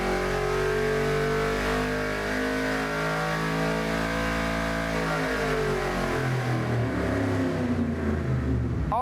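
A TA2-class Trans Am race car engine built for Ford, Chevrolet or Dodge roars loudly under sustained revving, pitch climbing steadily then dropping and surging again, close and alone with no talk.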